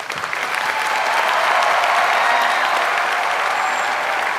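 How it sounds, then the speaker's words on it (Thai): A singing competition TV studio audience applauds in steady, dense, loud clapping that continues throughout without talk over it. "เสียงปรบมือให้กับหน้ากากไก่ฟ้าครับ"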